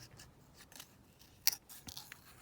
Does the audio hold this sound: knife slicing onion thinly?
no